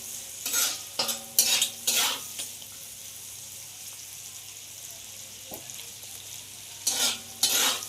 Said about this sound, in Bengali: এর ওপরে আমি কাজু আর কিশমিশটা দিয়ে দিলাম, দিয়ে হালকা করে আমি ভালো করে এর সাথে ভেজে নেব